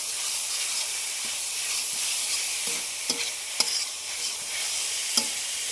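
Chicken simmers in masala in a pan as filling for chicken singara, a continuous steamy hiss and sizzle with occasional soft clicks of stirring.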